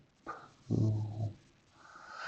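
A dog growls close by, a low rumbling snarl that swells and then fades, with a brief sharper vocal sound just before it.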